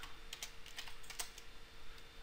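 Quiet, uneven clicks of keys being tapped on a computer keyboard, a brief burst of soft typing close by with faint background hum.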